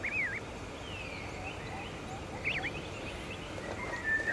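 A bird calls in the Scarlet Forest of the Monster Hunter Wilds video game, a few faint, short chirping and trilling notes scattered over soft ambient background, with no clear talk.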